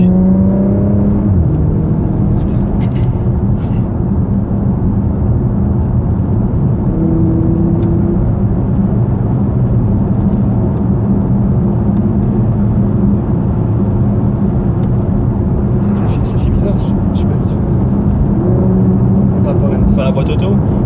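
A Porsche Macan GTS engine accelerating in a steady, low drone heard from inside the cabin over about twenty seconds, with people talking throughout.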